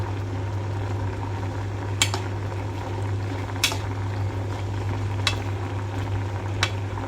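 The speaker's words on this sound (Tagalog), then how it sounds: "Hayaan lang natin maluto yung gulay." Vegetables simmer in coconut milk with tuna and curry powder, giving a soft, steady bubbling background with four brief, sharp utensil scrapes or clinks spaced a second or two apart.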